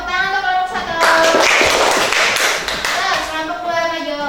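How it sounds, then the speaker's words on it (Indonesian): A classroom of students claps for a group, a short burst of lively applause that swells in the middle, with a voice speaking before and after. "tepuk tangan untuk kelompok 1"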